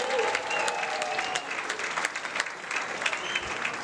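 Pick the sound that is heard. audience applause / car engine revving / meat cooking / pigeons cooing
audience applause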